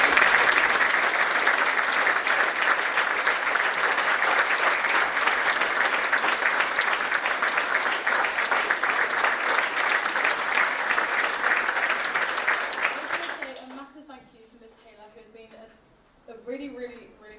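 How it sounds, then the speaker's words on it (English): Loud, dense audience applause at a school's third-year achievements event holds steady for about thirteen seconds, then dies away quickly, leaving a few scattered sounds. "So if we can just have one last round of applause."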